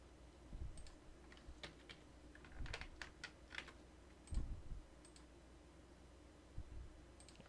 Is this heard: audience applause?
no